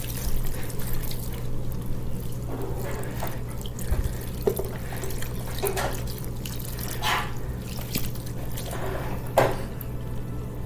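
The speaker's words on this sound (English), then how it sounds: "and then I will do the honors of stirring." A mixture of ground venison bratwurst and six cups of water is stirred, giving repeated wet sloshing and squelching bursts over a constant low hum.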